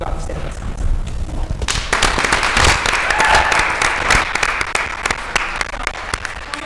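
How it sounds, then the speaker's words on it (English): Audience applause fills a luncheon room, a dense burst of clapping that swells up quickly and holds loud and steady, with sharp individual claps standing out near the end. "give a round of applause"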